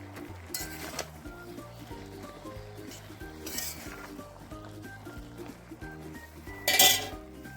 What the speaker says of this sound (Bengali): এবার আমি এতে আদা কুচিগুলি দিয়ে দিচ্ছি, দিয়ে আরও ভালো করে কষে নেব।